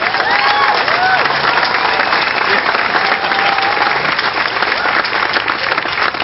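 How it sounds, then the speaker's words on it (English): A crowd applauds at the Washington Park opening and ribbon cutting, with continuous loud clapping throughout and faint cheering mixed in. "Let's give a round of applause to all the people that spent time working in this park."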